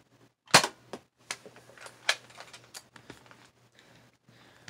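Toy gun or cap gun firing a series of sharp snapping shots, one loud pop followed by several lighter cracks at uneven intervals, close by and fading toward the end.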